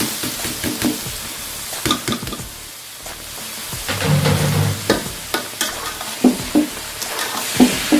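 Rice stirred with a spoon in a pot, ingredients for mutanjan sweet rice in a village kitchen; scraping, knocking strokes come in irregular bursts with a soft sizzle underneath, close and moderately loud.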